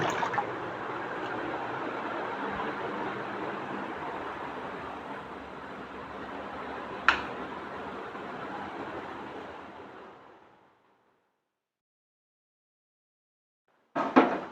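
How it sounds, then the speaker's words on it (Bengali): Water poured steadily into a cooking pot, a continuous close rushing splash lasting about ten seconds before cutting off, followed by silence and a brief clatter at the end. "একটু জল দিয়ে দিই আর একটু জলের প্রয়োজন আছে"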